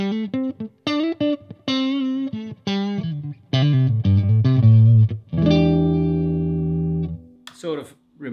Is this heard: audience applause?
no